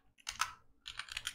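Kotlin code is typed on a computer keyboard, two quiet bursts of quick, light key clicks separated by a short pause, with no talking.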